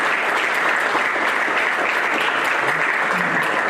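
A crowd at a Pro Football Hall of Fame ceremony in Canton, Ohio claps and cheers steadily in loud, sustained applause that carries through the whole stretch.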